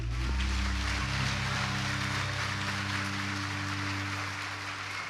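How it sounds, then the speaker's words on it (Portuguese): Steady broadband applause from a church congregation at an Easter service fills the clip over sustained low musical tones, continuous and fairly loud throughout. "Podemos aplaudir o Rei"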